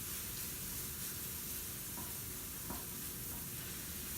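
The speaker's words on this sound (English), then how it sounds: "I'm going to make sure I stir this very well to make sure that all the spices are worked into the blend of onions and garlic" Onions, garlic and spices sizzle in a pan with a steady, dense crackle throughout while a spoon stirs them, with a few faint scraping touches and no talking.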